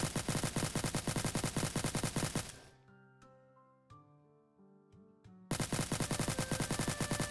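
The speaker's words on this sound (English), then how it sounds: "the shooting effects and the recoil of the gun" A gun in a Minecraft Bedrock addon fires in rapid automatic bursts, loud and relentless, breaking off for a few seconds of soft game tones and chimes before the fast volley resumes.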